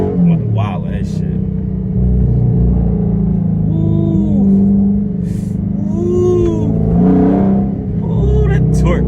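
A Dodge Scat Pack in manual mode accelerates hard with a loud, rising engine roar and revving, heard from inside the car while people talk over it.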